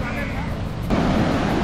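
Ocean surf at Sagareshwar beach near Vengurla on the Konkan coast, a steady broadband wash of breaking waves with wind noise on the microphone, swelling louder partway through.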